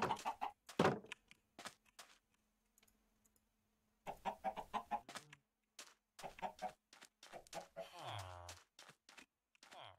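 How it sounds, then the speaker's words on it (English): Chickens clucking during breeding in the Minecraft video game, short game-sound bursts mixed with keyboard typing, with a person talking over them. "Let's breed the chickens."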